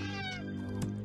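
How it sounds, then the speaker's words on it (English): A cat meows in the Slayaway Camp video game, a drawn-out plaintive cry over a steady low game hum, close and clear with no talking. "Aw, poor kitty."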